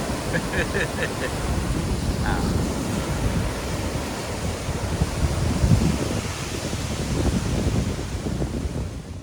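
Sea waves wash onto a rocky stretch of Hua Hin beach, a loud, steady surf roar heavily mixed with wind buffeting the microphone, continuing through the whole stretch.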